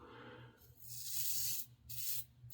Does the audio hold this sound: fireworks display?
no